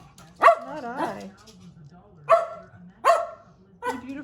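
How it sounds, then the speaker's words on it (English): Stella the dog gives several separate close barks with short yips and whines between them, loud and sharp in a quiet indoor setting. "You're the one that started barking, my friend."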